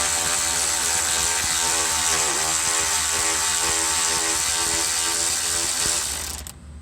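A hand ratchet works a 10mm bolt loose, its pawl clicking in a fast, steady run that stays loud and close before cutting off near the end.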